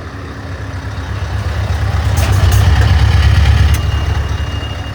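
A Scania V8 660 truck fitted with an exhaust diffuser rumbles loudly as it maneuvers, its deep engine drone swelling in the middle and holding steady, with a brief hiss partway through.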